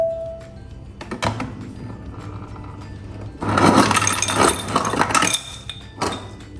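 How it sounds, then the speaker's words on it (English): Cubed ice clattering out of a Samsung Spacemax Family Hub refrigerator dispenser, a loud rattling burst of tumbling cubes after a few quieter clicks, close by. "So next let's see the cubed ice."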